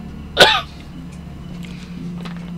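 A single sharp cough rings out close by, then gives way to a low steady hum of background noise.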